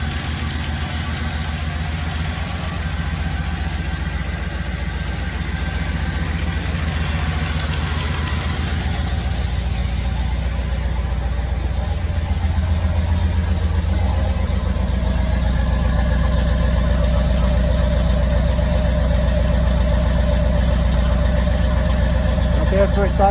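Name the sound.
1995 Pontiac Trans Am engine idling with small exhaust leak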